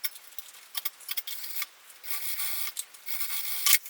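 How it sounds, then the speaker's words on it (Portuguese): A sewing machine runs stitches through synthetic leather along a zipper's teeth, with short bursts of quick mechanical rattling separated by pauses, close and fairly quiet. "Vai passar uma costura encostando o calcador aqui na cremaleira do zíper."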